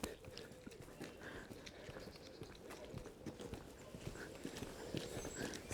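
Horse hooves clip-clop in a quick, uneven rhythm on a hard surface, with repeated sharp knocks at moderate distance over a low background hum.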